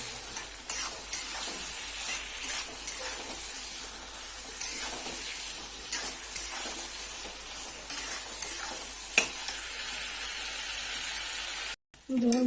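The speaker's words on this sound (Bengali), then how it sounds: "দিয়ে একটু নাড়াচাড়া করে নেব।" Fried brinjal being stirred in a pan with a spatula, steady sizzling and hissing with scattered scrapes and knocks, fairly quiet, ending in a brief clatter.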